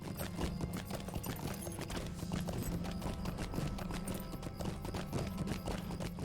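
Horse hooves clip-clop at a steady gallop while riding in the Lord of the Rings Online video game, with a fast, even rhythm that stays close and continuous throughout.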